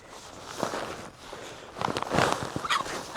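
Chickens excited over dried fly larvae cluck and squawk in a loose, busy chatter, moderately faint outdoors, mixed with rustling and scratching footsteps.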